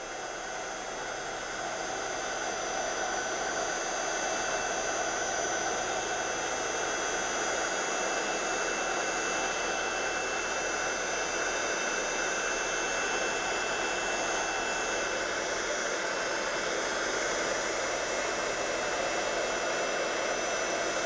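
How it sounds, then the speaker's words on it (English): Heat gun blowing hot air over embossing powder on a pink flower greeting card, a steady loud whooshing hiss held close for the whole stretch, no voices. "we'll move the heat gun over the image."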